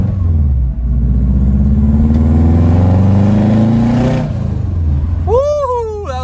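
The forged, STI-swapped Subaru Forester engine revs hard and steady with a loud, close rumble as it builds turbo boost. The revs drop off at the end, and a sharp whistling chirp follows.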